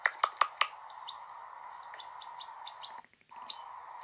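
High, short bird chirps, a quick burst of several loud peeps at first, then softer scattered tweets over a steady background hiss.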